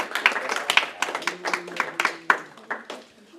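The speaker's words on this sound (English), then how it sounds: "give everybody a big round of applause" Classroom audience claps for a student presenter, a scattered burst of hand claps with distinct individual slaps, fairly close and moderately loud, over murmured voices that fade out.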